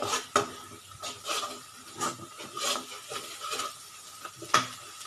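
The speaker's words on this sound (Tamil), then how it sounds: "போட்டு நல்லா வதக்கி விடுங்க" Repeated scraping and clinking of a utensil stirring mushrooms with ginger and garlic in a pan, with a soft sizzle underneath and a few sharper metallic taps.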